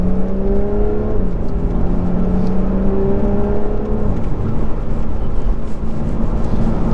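A Lotus Evora Sports Racer engine pulls hard and loud up through the gears, its droning pitch climbing and then dropping at each upshift, heard from inside the car with no one speaking.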